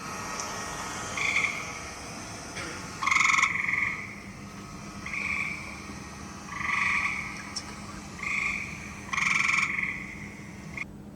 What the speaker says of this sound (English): here's a gray tree frog mating call